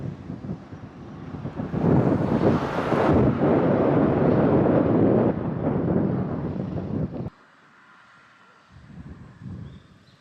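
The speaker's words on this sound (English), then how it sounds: "Windy again today. It's been breezy last couple of days in a row." Strong wind buffets the microphone on a hiking route through hills in Japan, a loud, rumbling roar that swells for several seconds, then drops to a softer rush with a brief gust near the end.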